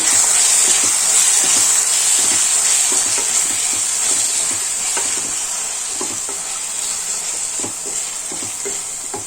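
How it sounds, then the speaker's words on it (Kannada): Spices and garam masala with coriander powder are stirred in a hot frying pan for millet fenugreek bath, giving a steady bright sizzle with repeated scraping strokes of the spoon, loud and close without talk. "ಇವಾಗ ಇದನ್ನು ಎಲ್ಲ ನೀಟಾಗಿ ಮಿಕ್ಸ್ ಮಾಡಬೇಕು"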